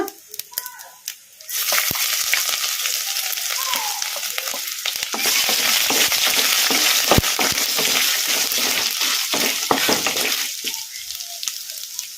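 Chopped ingredients hit a hot pan for a potato rice dish and erupt into a loud, crackling fry with stirring scrapes that dominates the middle before settling back to quieter kitchen sounds.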